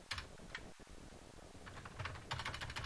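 Quiet, rapid typing on a computer keyboard: bursts of soft key clicks with short pauses between them, heard close, with no voices.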